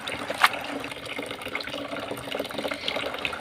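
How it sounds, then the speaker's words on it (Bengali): Red amaranth greens being rinsed by hand in water, with soft splashing and trickling throughout and one brief sharper splash near the start, close and moderately quiet. "আমি বেশ কয়েকবার জল বদলে খুব ভালোভাবে শাকগুলো একটু ধুয়ে নিচ্ছি"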